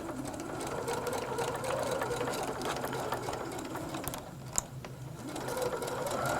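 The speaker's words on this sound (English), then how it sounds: "Back stitch to keep it all in place." A sewing machine back stitches along a tote bag's boxed-bottom seam, its motor running in a steady, close, continuous whir with a brief click near the end.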